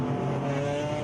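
Race cars roar on the circuit at a regional extreme racing festival in Gauteng, South Africa, a loud, steady, continuous engine drone with layered harmonics throughout.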